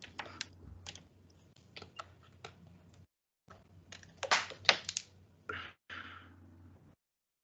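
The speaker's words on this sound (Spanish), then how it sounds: "Quiero escuchar teclados de calculadoras." Fingers tap calculator keys in quick, irregular bursts, a brief pause, then another run of crisp close clicks trailing off into silence.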